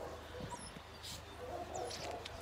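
Puppies and dogs, including an Alabai, whimper and yip faintly in a yard, with a few thin, high cries scattered over low background noise.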